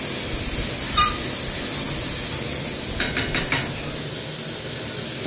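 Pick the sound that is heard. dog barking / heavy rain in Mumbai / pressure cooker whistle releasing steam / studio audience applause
pressure cooker whistle releasing steam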